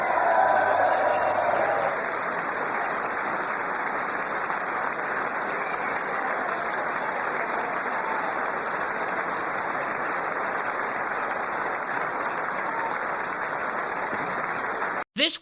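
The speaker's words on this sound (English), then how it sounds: "This was the biggest applause of the night." A political rally audience claps hard after a speech line about protecting American citizens over illegal aliens, a loud, dense, sustained ovation lasting many seconds before cutting off abruptly.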